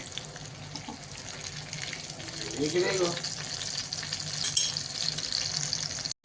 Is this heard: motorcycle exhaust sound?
no